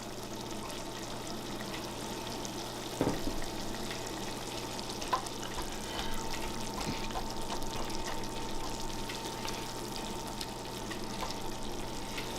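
Sake simmers and sizzles steadily in a pan, a continuous low bubbling hiss with a few soft clinks, close and moderately quiet, with no talking.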